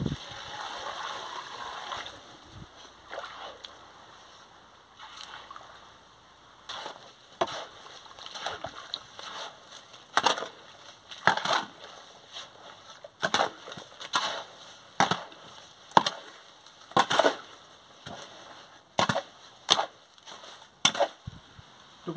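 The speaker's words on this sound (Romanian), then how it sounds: "Trebuie doar să adăugăm apă." Baumit universal premixed concrete is mixed with added water, giving repeated sharp scraping and sloshing strokes in an irregular rhythm, close and fairly loud, with quieter stirring between them.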